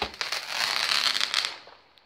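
Bonfire Night fireworks from a multi-shot cake firing a dense, crackling burst that lasts over a second and then quickly fades away, loud and fairly close.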